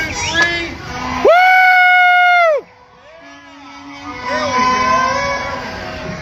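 Crowd shouting and cheering at a street parade, with one loud sustained shout of about a second rising over the general crowd noise and voices, then fading back into a busy murmur.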